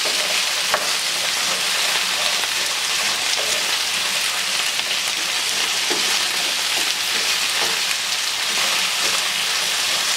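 Potatoes fry loudly in a pan alongside roast beef on a medium-high burner, a dense, steady sizzle with crackling pops throughout and no talking.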